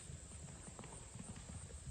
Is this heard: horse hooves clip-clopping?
yes